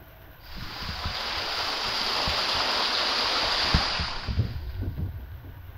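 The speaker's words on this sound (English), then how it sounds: "Tubing an underground river." An underground river flowing through a flooded cave, a dense rushing wash that swells in and fades after a few seconds, with low bumps and knocks underneath.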